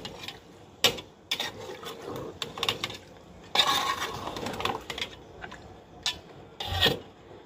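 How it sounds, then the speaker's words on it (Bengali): Beef being fried on high heat in a cooking pot is stirred, giving irregular scraping and rasping strokes of a utensil against the metal, with short pauses and no talking. "নেড়ে দিলাম, এখন ঢেকে দেব।"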